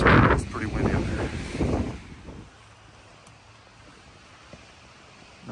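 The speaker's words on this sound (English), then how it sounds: "It's pretty windy out there." Strong wind buffets the microphone on a mountain trail at Grandfather Mountain, North Carolina, loud gusts in the first two seconds easing to a steadier rush.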